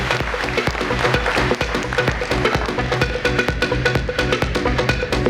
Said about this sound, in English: A big round of applause, ladies and gentlemen, for Mr. Firoz Anam for his wonderful contribution in the panel session